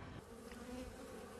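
A close, steady hum of bees buzzing, quiet and unbroken, heard in a piece about biomonitoring with honeybees.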